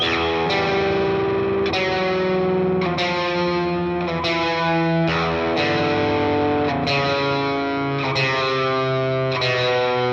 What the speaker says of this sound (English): To give the guitar some gravity, I'm adding some crunch and extra reverb to it.